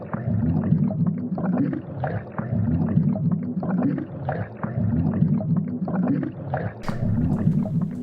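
A small motor inside a homemade moving light display hums and rumbles steadily in a low register with a pulsing, churning rhythm, fairly loud and close.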